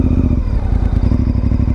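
A motorcycle rides slowly across a narrow balance-beam section of a licensing test course, its engine giving a steady low idle-like chug with light clatter and occasional thumps throughout.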